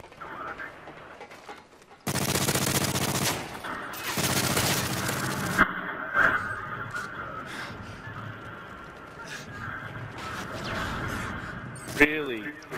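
Rapid automatic pistol fire from a Modern Warfare 3 multiplayer match, dense bursts of shots between about two and six seconds, with game effects and a player's voice around it.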